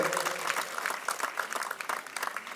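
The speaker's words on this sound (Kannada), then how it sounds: "ದಯಮಾಡಿ ತಾವೆಲ್ಲ ಜೋರಾಗಿ ಚಪ್ಪಾಳೆ ಎಂ ಶಿವಕುಮಾರ್ ಅವರಿಗೆ" A festival audience at the Janapada Sambhrama 2025 folk event claps for M. Shivakumar, a dense, fairly distant patter of many hands that goes on throughout.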